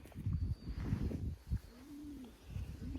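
A low, rounded coo from a Janssen De Klak pigeon repeats in soft bursts, fairly close, with a gentle rising-and-falling hum between calls.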